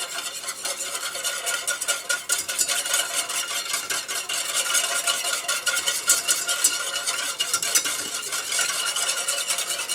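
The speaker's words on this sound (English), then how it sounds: "we're going to stir this all together really well with the whisk" A whisk stirs blueberry pie filling with cinnamon in a pot over low to medium heat. The fast, continuous scraping and swishing sounds close and steady throughout, with no one talking.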